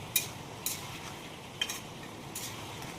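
Pumpkin frying in a pan with salt added, stirred with a utensil: a few light scraping clinks spaced out over a soft, steady sizzle, close and fairly quiet, with no voices.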